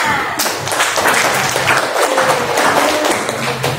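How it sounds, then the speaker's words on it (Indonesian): A room of people clapping in applause, a busy, fairly loud burst of overlapping hand claps lasting several seconds, with some voices mixed in. "Tepuk tangan."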